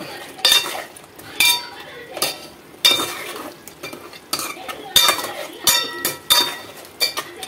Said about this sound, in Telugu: ఇది కూడా కలిపేసేసుకుందాం ఒకసారి.